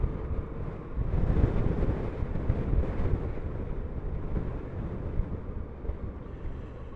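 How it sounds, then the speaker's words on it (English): A steady, heavy rumble of wind pummels the microphone throughout, swelling slightly at moments but never letting up. "Oh, it's a bit more windy."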